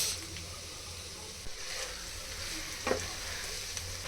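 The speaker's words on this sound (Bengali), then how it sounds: "সবজিগুলো এভাবে চুলে 5 মিনিট ভেজে নিব" Vegetables for egg noodles frying in a pan with hot tomato sauce and noodle spices, a steady soft sizzle with a few light stirring scrapes, no talking.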